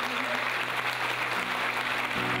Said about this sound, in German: ich würde jetzt euch bitten, mit einem ganz großen Applaus